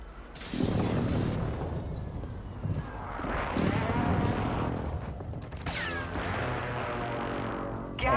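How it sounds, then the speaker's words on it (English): Airstrike explosions in Call of Duty Modern Warfare II, a run of loud booming blasts with rumbling debris that swell and fade in several waves, followed by mechanical whirring and crackling gunfire near the end. "Hostile precision airstrike. Get to cover."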